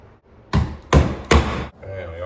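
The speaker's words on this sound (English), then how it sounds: "Do not use your drill as a hammer." A cordless drill is used as a hammer, banging into a hole during a hand rail installation with three sharp, heavy knocks spaced evenly about half a second apart, close and loud over a quiet background.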